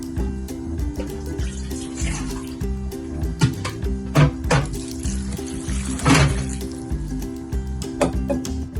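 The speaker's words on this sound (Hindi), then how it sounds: "इसके अंदर हम डालेंगे 2 अदद बड़े गिलास पानी के" Water from two large glasses pours into a cooking pot, giving a splashing, gurgling flow with a few louder surges and clinks, close and without talk.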